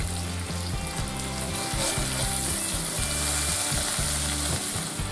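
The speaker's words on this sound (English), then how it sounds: "And we're going to mix this all up again." A thick red mullet Provençal sauce bubbles steadily in a pot while being stirred, with a continuous close sizzle and soft rhythmic scraping under it and no talking.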